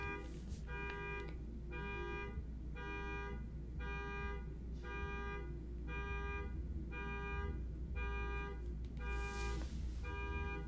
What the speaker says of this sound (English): Oh, and now my neighbor's car alarm is going off too.